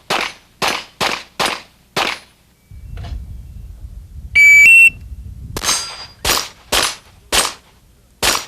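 At a pistol shooting event, a fast string of five loud, close shots rings out, followed by a low rumble and a brief electronic beep, then a second quick burst of five shots.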